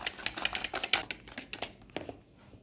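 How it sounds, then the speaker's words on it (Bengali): Batter with oil for a hot milk cake is beaten in a bowl, giving rapid, rhythmic clattering taps that are close and fairly loud at first, then thin out and slow toward the end. "দিয়ে এবারে এটাকে বিট করব।"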